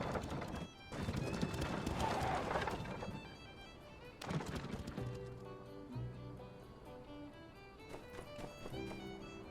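Horse hooves clip-clop while riding in the video game My Time at Sandrock, with a neigh, set against game music and sound effects.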